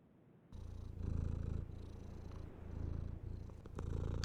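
Cat purring in the video game Cadence, a low, rumbling purr that swells and eases in slow waves over a faint background, close and steady.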